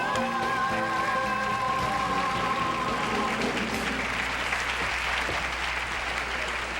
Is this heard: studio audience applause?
yes